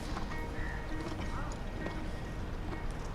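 A racehorse fitted with a bridle and bit steps out with soft hoof clops on the ground. Low ambient noise runs underneath, and there is a faint whinny-like sound.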